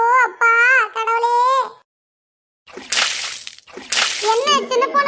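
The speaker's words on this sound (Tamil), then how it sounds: "நீங்க என்ன வாசலுக்கு தண்ணி போடுறீங்க?" Water is thrown onto a doorstep in two sloshing splashes about a second apart, loud and close. Voices speak and cry loudly before and between them.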